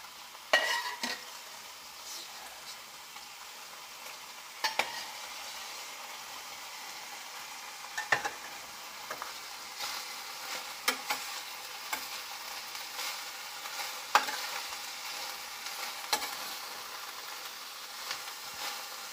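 Beef and broccoli stir-fried with oyster sauce in a pan, giving a steady close sizzle broken by repeated sharp scrapes and clacks of a utensil stirring, with no talking.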